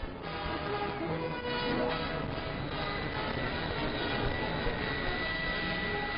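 A steady, continuous roar from the 1949 Avro Canada C-102 Jetliner as it flies over Idlewild Airport. It holds loud and unbroken throughout, with a dull, band-limited tone.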